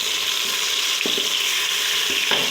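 Garlic-ginger paste hits hot ghee over browned fried onions and sizzles loud and steady. A few soft stirring knocks sit under the crackle.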